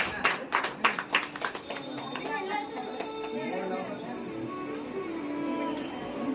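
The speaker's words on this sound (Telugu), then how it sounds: "చప్పట్లు కొడదాం ఒకసారి అందరికి కూడా" Guests at a housewarming gathering in Eluru city clap in a short burst of applause at the start, the claps fading as voices and room chatter carry on underneath.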